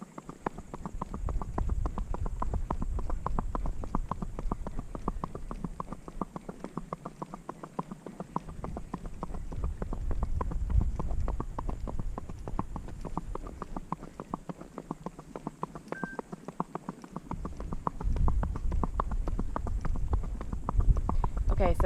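Gaited horse ridden on a loose rein, its hoofbeats a steady, continuous, even clip-clop rhythm lasting over twenty seconds at moderate distance, with a low background rumble and a voice talking over parts of it.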